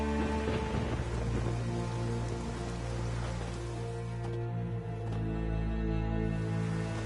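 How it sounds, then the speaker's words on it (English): Steady rain falls in the Witcher 3 game world, a dense continuous hiss with drops pattering on surfaces, layered over low tonal music or ambience throughout. "There's no point standing here in the rain."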